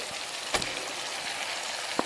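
Potatoes and chopped tomato fry in a pan, a soft continuous hiss of sizzling with a couple of brief crackles or stirring taps, heard close with no talking.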